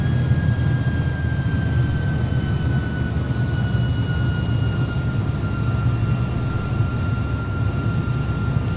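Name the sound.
Airbus A300-600 jet engines taxiing, from X-Plane 11 video game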